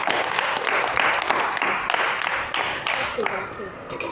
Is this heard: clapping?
yes